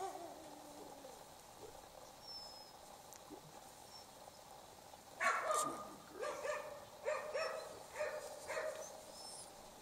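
A female Jämthund, a Swedish Elkhound hunting dog, barks several times in a loose series outdoors, the barks fairly distant and moderate in volume against a quiet background.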